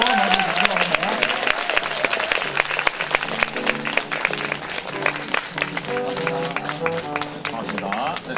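Studio audience applause at a Korean live public broadcast talk show as a guest is welcomed on stage, steady dense clapping throughout, mixed with music and voices.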